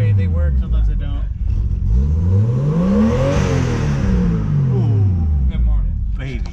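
A Nissan Skyline R32 engine revs repeatedly in rising and falling sweeps, several loud blips close by with idle between them, and people talk faintly in the background.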